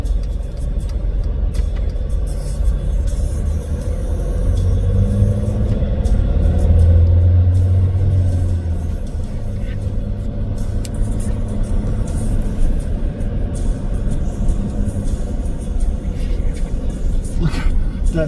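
Steady low road rumble from a car driving alongside a trailer and a car carrier on a highway, continuous and fairly loud throughout with no talk over it.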